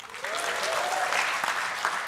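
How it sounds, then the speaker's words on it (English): Audience applause at an industry talk, a steady wash of many hands clapping at moderate distance, sustained evenly throughout with a faint voice briefly audible in the mix. "Same cheering or clapping"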